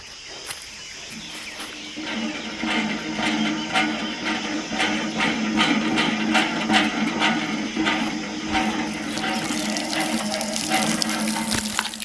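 Steady rushing water flows continuously from a pipe at the edge of an irrigation channel, fairly close, with a constant hiss and splash and insects chirping faintly in the background.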